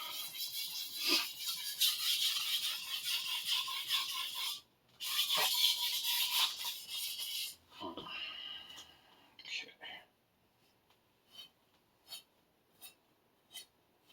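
A Minamito 250mm sujihiki knife is drawn across a whetstone in rough gritty strokes, loud passes broken by a short pause, then fading into faint scattered scrapes.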